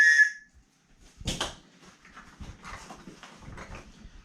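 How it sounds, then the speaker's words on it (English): A small survival whistle from a military surplus bug-out kit is blown once, a short bright shrill blast, followed by quiet handling sounds. "I have another whistle."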